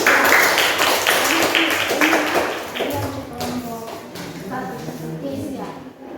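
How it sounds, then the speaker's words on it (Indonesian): Classroom applause for a student group, a dense patter of many hands clapping at once, loud at first and slowly thinning out over several seconds while voices murmur underneath. "berikan aplaus untuk kelompok 1"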